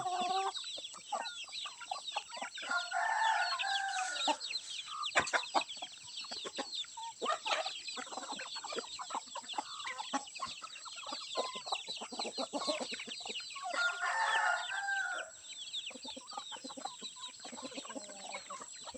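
A flock of Palawan native chickens clucks and chatters continuously nearby, with scattered louder calls and pecking sounds and a faint high background hiss.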